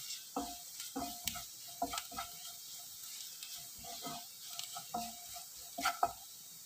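Turmeric, coriander and chili powders fry in a pan for egg Maggi with a faint sizzle under repeated close scrapes and taps of a spoon stirring in an uneven rhythm.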